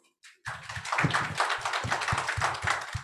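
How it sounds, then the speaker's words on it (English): Panelists at a session's close get a burst of close, brisk clapping that starts suddenly after a brief quiet and continues densely, with individual hand claps standing out in an uneven patter. "Let's give them a round of applause"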